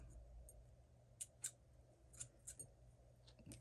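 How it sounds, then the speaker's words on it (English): Several quick, crisp snips of scissors cutting thread at close range, scattered irregularly over a quiet background with no talking. "Cut this other piece of thread off."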